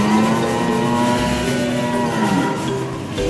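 A cow at Stew Leonard's gives one long, loud, sustained moo up close that drops in pitch near its end, over steady background noise.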